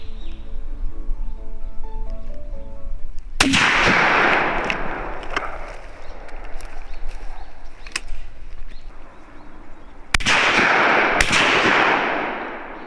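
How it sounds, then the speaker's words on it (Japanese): Shotgun blasts at common pochard ducks on a pond during a hunt: one loud, sharp report early on and two more close together later, each echoing, with a few fainter cracks and outdoor ambience between. "撃つなら今しかないな"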